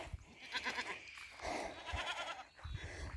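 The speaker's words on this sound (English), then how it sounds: "So the goats are fertilising and grazing these paddocks" Goats bleat several times in a grazing paddock, with wavering cries overlapping one another at moderate distance, fairly quiet and with no talking.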